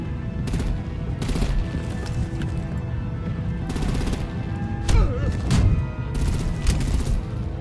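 Rapid bursts of gunfire from artillery in Batman: The Enemy Within, sharp repeated shots in clusters over a constant rumbling battle din, with a louder crash partway through.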